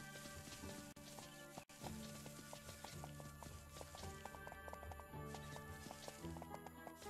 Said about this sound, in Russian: А, лошадь куда-то заехала